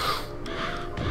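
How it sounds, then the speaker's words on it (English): Crows caw in the game Psychonauts, a short burst of harsh calls layered over steady game ambience, fairly close and moderately loud. "Fuck you, crows."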